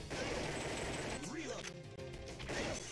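Gunfire in the arcade shooter Time Crisis, rapid bursts of shots and impacts with mechanical clatter and a falling electronic tone, dense and loud, mixed with game voice effects.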